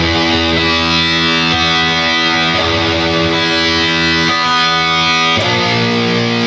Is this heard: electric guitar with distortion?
yes